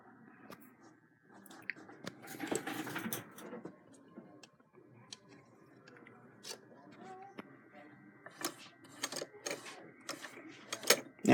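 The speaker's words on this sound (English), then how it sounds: "Now you can see that the machine is zigzag stitching" A Singer 15 clone sewing machine running a zigzag stitch, giving a quiet, irregular mechanical ticking and clatter with sharper clicks toward the end, faint and close.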